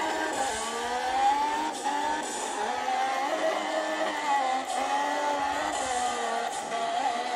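A race car engine in the Project Cars racing game, driven hard: a loud, steady, high-pitched whine that rises and falls slightly with throttle and gear changes, continuous throughout with no talking.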